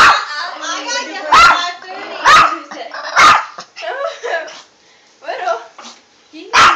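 A dog barks in several sharp, loud bursts spaced through the moment, with people talking close by between and over the barks.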